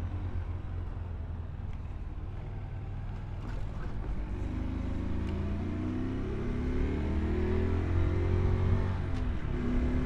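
A 2023 Honda Super Cub C125 motorcycle engine hums steadily while riding, pitch rising and dropping as gears shift, fairly faint with wind rumble beneath.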